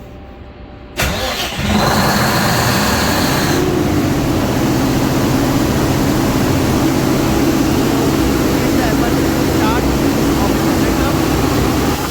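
A ship's emergency generator onboard a vessel cranks and starts, then settles into a loud, steady mid-pitched engine roar that fills the rest of the clip, with a brief whine near the start.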